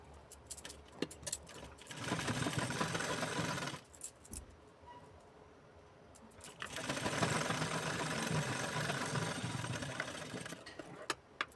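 A sewing machine stitching the folded sleeve seam of a blouse runs in two long bursts separated by a short pause, with a faint clicking at the start and a steady close whir throughout.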